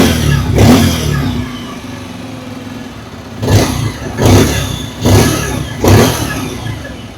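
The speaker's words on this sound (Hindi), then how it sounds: "पहले सुन लेते हैं हैलोजन हेडलैम्प वेरिएंट की एग्जॉस्ट नोट।" A Bajaj Pulsar 125 motorcycle, halogen headlamp variant, idles steadily, then is revved up sharply once, and after a pause four more times in quick succession, each burst a close, rising vroom.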